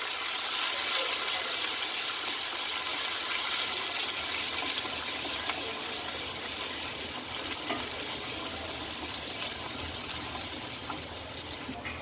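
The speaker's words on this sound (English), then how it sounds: "garlic, ginger and chilies first. Let's saute this." Garlic, ginger and chilies sauteing in a kadhai for kadhai paneer, giving a steady, loud broadband sizzle that holds evenly throughout with no talk.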